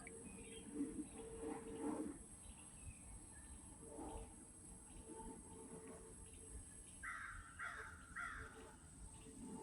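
Crows caw in the woods in short bursts of two or three calls, fairly faint and distant, over a quiet outdoor background with faint insect sounds.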